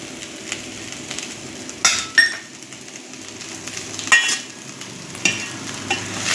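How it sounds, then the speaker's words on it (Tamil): A spoon stirs chicken fried rice with coriander in a pan over a soft, low sizzle. Several louder scraping strokes and metallic clinks against the pan come at irregular intervals. "மல்லி போட்டு கிளறி இறக்கிக்கலாம்."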